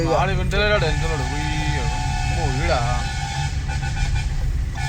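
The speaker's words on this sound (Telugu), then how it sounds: "పెద్ద ట్రక్ పోతుంది ఆ ట్రక్ ఓ" A big truck passes on the Araku ghat road, its low engine drone rolling steadily beneath someone talking continuously over it.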